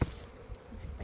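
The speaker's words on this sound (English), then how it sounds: "Oh yeah, all kinds of bees in here." Honey bees drone softly around an open hive during an early-season inspection, a faint continuous buzz with a few soft thumps of handling, no talking.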